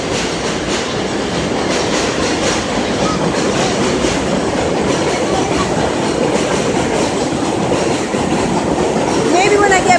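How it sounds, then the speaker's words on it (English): A train passes close by during a family Easter outing, a loud continuous rumble with rhythmic clickety-clack of wheels on the rails that holds steady throughout and swells slightly toward the end. "You are gonna hear a train again."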